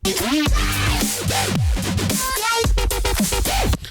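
A loud, aggressive Serum bass recreation wobbles and growls with sweeping pitch bends and gritty distortion, filling the whole stretch before cutting off abruptly.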